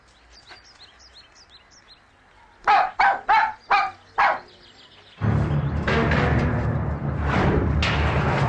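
A puppy barks five times in quick succession, close and fairly loud, after faint bird chirps in a quiet outdoor setting; a louder rushing, broadband noise follows afterward.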